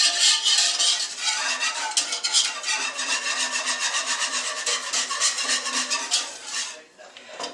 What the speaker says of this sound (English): So I'm going to stir that in really good.